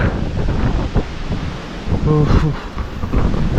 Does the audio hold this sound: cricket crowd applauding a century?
no